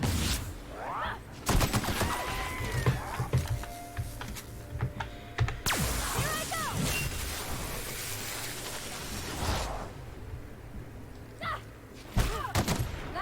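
Gunfire in The Outer Worlds video game, scattered sharp shots and bursts mixed with clattering game effects over about thirteen seconds, moderately loud with no clear talk.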